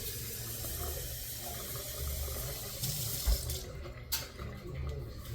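Warm water runs from a tap into a quart mason jar, a steady rushing fill with a few knocks and clinks of the glass toward the end.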